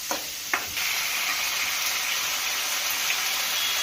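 Capsicum and beans frying in a pan for pasta give a steady, close hiss of sizzling oil, opened by a couple of sharp clicks from stirring.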